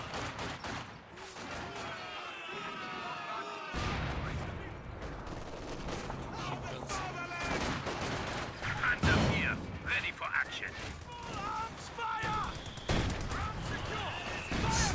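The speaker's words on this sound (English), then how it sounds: "that mortar hit from Luvnest did a really good hit on that conscript squad then" Company of Heroes 2 battle sounds with a mortar impact and rattling gunfire, dense bursts of shots and crashes under ongoing commentary voices.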